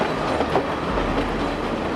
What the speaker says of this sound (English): The trains slowly make their way through the winding tracks